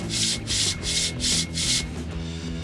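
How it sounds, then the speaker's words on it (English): Five steady rubbing strokes scrubbing clean a flywheel from an 1987 Chevette being converted to manual, each stroke a rasping swish of even length over a low background hum, then stopping. "We're gonna clean the flywheel, and we're gonna install the clutch and the pressure plate"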